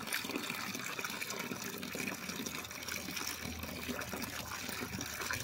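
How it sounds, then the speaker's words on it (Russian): A bathtub fills with running water, a steady broadband gush pouring in close and continuous without a break, no voices over it. "Очередная порция ванны наливается."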